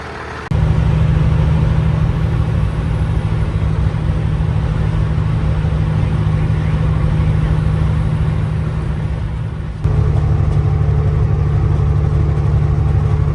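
A truck engine running steadily while driving, a loud continuous low drone that briefly dips and then resumes with a slight shift in tone.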